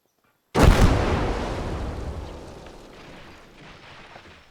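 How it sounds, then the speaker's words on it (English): Dynamite charge detonating in the WWII strategy game Call to Arms: Gates of Hell, clearing a tank barrier: a single sudden loud blast after a moment of silence, followed by a long rumbling, slowly fading debris tail with no voices. "So we can use dynamite to remove that obstruction."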